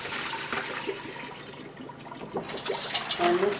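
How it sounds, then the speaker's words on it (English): Cooked pierogi and their water are poured into a colander in a home kitchen, a running splash and trickle of draining water that swells toward the end, close by and moderate. "Drain them into this colander."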